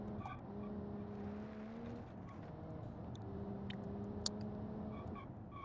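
A quiet 1990s-style Japanese car engine in the BeamNG driving game hums steadily with a low, even tone and slight pitch shifts as it drives, with faint tire noise and a few small clicks.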